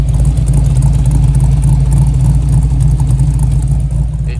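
A 1994 Chevy Blazer with a swapped carbureted LS1 V8 and factory five-speed manual runs loud and close, a deep, steady rumble that stays constant throughout with no voices.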